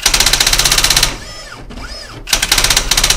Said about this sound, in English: now the right key sequence and the typewriter reprints it automatically